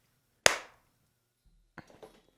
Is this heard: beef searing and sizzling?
no